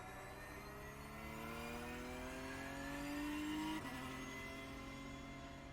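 A Porsche Cup car in the iRacing game accelerates through the gears at Long Beach, its engine note climbing steadily in pitch, then dropping sharply at an upshift and pulling again, loud and close with no talk.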